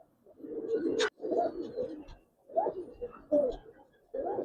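Giribaz and coloured pigeons coo in low, throaty rolling bursts, several repeated phrases separated by brief pauses, heard up close with a short sharp call in between.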